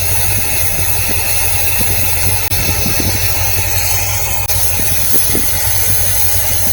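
A 1976 C3 L48 Corvette's Small Block Chevy 350 V8 idles steadily and close by with a low, even rumble and a faint vibrating hum, no voices present.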